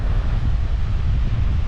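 Strong wind at an Orange Beach or Gulf Shores public beach access buffets the microphone with a constant low roar and rumble, steady and loud throughout, no voices present.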